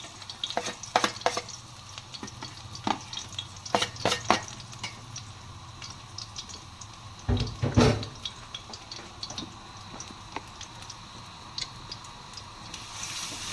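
Oil sizzling steadily in a pan as chopped garlic is stirred and sautéed, with scraping clinks and a brief louder burst partway through.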